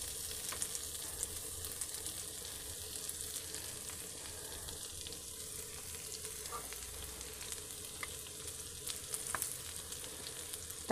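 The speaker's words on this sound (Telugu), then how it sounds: "కొంచెం ఇలా తిప్పుకుంటూ కాల్చుకోవాలన్నమాట" Bitter gourd slices frying in a pan and being turned, a faint, even sizzle with light crackle and a few quiet clicks of the spatula, no speech.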